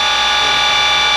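A Nomura NN32YB2 Swiss-type lathe runs its cross-working tools at 2500 RPM, recorded close to the spindles, giving a steady, loud high-pitched machine whine with a constant mechanical hum throughout.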